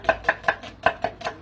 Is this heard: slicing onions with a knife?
yes